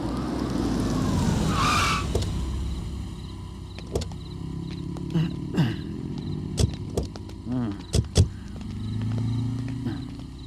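A police vehicle rolls to a stop, its engine rumbling low while tires and brakes squeal, followed by clunks and sharp mechanical clicks as it settles.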